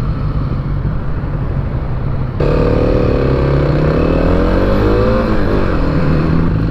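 A 2021 Kawasaki KLX300 motorcycle engine idles loudly up close, then jumps in volume as it revs, the pitch climbing and falling through several throttle blips.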